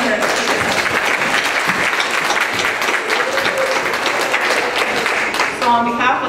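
Audience applause at a Slow Food gathering fills the whole stretch as dense, steady clapping at close range, with a voice emerging faintly near the end.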